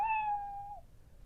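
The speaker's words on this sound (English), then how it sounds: "when you touch his tail, he'll meow or sigh, but he won't purr. So see, he gives a meow." A single electronic-sounding meow from a Chongker Percy interactive robot toy cat when its tail is touched, clear and close, sliding down at the end before fading into quiet room noise.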